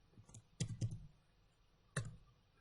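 A few sparse keystrokes on a computer keyboard: sharp, close clicks, one faint, then two quick taps, a pause and a final tap, with no talking.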